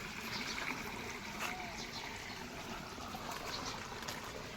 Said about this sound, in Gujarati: પાણી ચાલુ છે